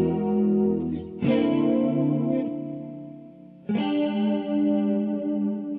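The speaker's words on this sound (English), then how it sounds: "what I want to hear is the shimmer and like the high end content of the chorus." Sustained electric guitar chords played through a chorus pedal ring out with a shimmering, wavering tone, two strummed attacks each left to decay, alone with no talk.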